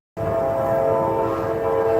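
A CSX freight train's horn blasts loud and close, starting abruptly and holding a steady, sustained chord for the rest of the moment with no voices.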